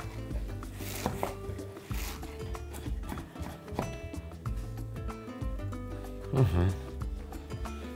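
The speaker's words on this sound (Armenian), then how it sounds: "Լապշան կարելի է մի փոքր ավելի երկարուկ կտրատել։" A knife cuts noodles into slightly longer pieces on a board, a series of irregular close chopping taps under background music and a talking voice.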